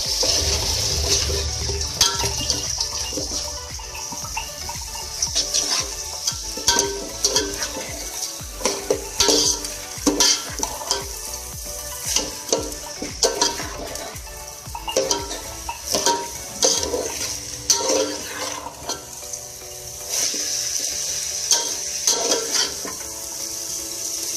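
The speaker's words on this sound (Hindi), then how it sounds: "तो चावल और दाल को डाल के आप इसको भून लें।" Rice and lentils are dry-roasted in a pan for khichdi and stirred, with continuous scraping and clattering from the utensil and a soft sizzle running throughout. No one speaks.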